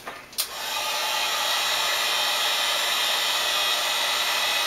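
A heat gun blows onto EVA foam, a steady loud whooshing hiss that starts after a short click and continues evenly to the end, with no talk.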